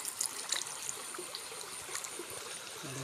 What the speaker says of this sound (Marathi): व्हालाचं पाणी कसं खळखळतंय बघा